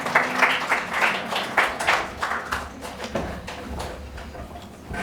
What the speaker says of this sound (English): Big round of applause for our speaker tonight, Andoni Piperoglu.